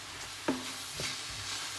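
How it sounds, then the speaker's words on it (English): A spoon stirs savory oats with steamed broccoli in a non-stick cast iron pan, giving a single short scraping stir followed by a softer second movement over a faint background sizzle. "Give it a good stir."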